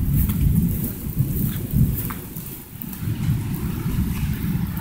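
Thunder from lightning striking a tree during a storm, heard as a heavy, rolling low rumble that swells and fades amid rain noise, with no voices.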